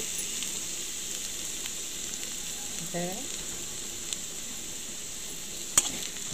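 Tomato dal fry cooking in a pan gives a steady, close sizzle throughout, with a faint brief stir partway and a sharp single clink near the end; no one talks.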